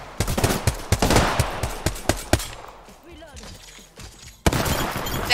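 Rapid bursts of gunfire in a multiplayer shooter video game, loud automatic shots in clusters, a quiet gap, then another burst, with a player talking among them.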